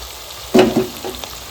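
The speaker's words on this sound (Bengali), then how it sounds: "তো এক এক করে মাংসটা দিয়ে দিচ্ছি ভাজার জন্য গামলাতে।" Pieces of meat dropped one by one into rendered meat fat in a pan, each landing with a brief loud sizzling burst, then a softer steady frying hiss.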